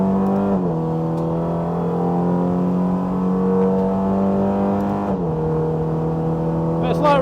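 A Super GT race car on wet racing tyres laps a test circuit, its engine droning loud and steady from inside the cockpit as the pitch holds, dips briefly at a gear change, then settles again.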